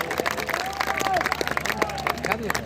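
At a kavi sammelan poetry gathering in a college hall, a crowd claps in scattered bursts while an amplified voice talks over the applause.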